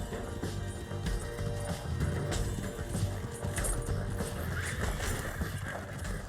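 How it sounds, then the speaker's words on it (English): Horse hooves clip-clop at a steady trot in the Red Dead Redemption 2 video game, close and continuous, with neighs and whinnies mixed in over a busy background. "Damn horse."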